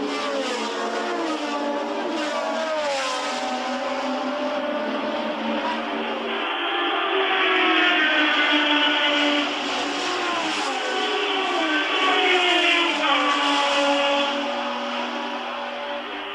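Formula 1 race cars slipstreaming at nearly 300 km/h in the 1977 German Grand Prix, high engines screaming together with shifting, rising pitches, loud and sustained with no pause.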